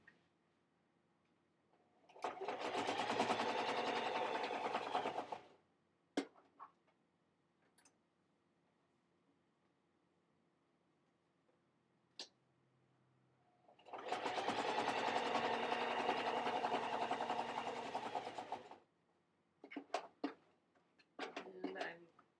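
A sewing machine stitches a seam on a fabric bowl koozie in two steady runs of several seconds each, close and even, with quiet ticks and clicks between the runs.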